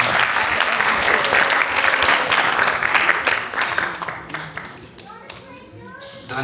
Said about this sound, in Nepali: उहाँलाई ताली बजाएर हामी स्वागत गर्नेछौँ।